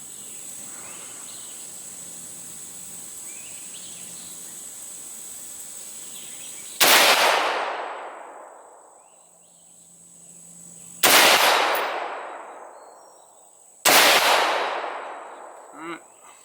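A PSA .223 Wylde rifle firing Winchester ammunition during an outdoor accuracy test fires three loud, sharp shots a few seconds apart, each ringing out in a long decaying echo over a steady insect-like background hum.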